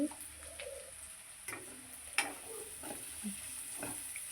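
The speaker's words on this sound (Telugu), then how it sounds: "కారం అంతా ముక్కలకి పట్టేలా కలుపుకోవాలి పచ్చివాసన పోయే వరకు మట్టించుకోవాలి" Broad bean pieces frying in a pan with chili powder are stirred, giving a soft steady sizzle with a few scraping stir strokes, faint and close, with no talk.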